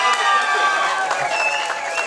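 A live audience applauds and cheers for a costume-contest winner, Burt Reynolds: a dense, continuous wash of clapping and crowd noise with shouts and voices mixed throughout.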